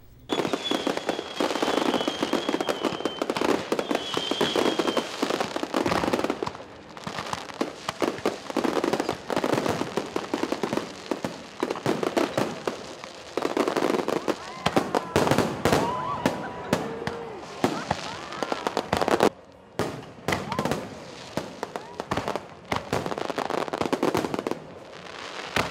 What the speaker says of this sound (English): After witnessing the stunning fireworks display from their vantage point at the officers' mess